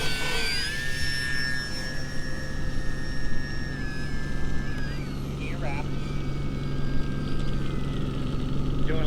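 Electric motor of a HobbyZone P51D 1100mm Detroit Miss RC model plane spinning up for takeoff, a high whine rising and sliding in pitch, fading as the plane climbs away over outdoor wind noise.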